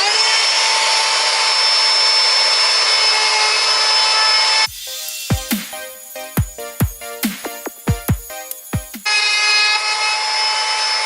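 A power tool whines steadily at high speed, then bites into wood being hollowed out with a string of sharp, irregular grinding knocks and chatter before returning to the even free-running whine.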